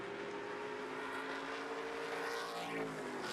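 Race trucks in a 2023 Nashville race drive around the track, their engines a steady, loud roar with a faint rising pass-by sweep toward the end and no talk.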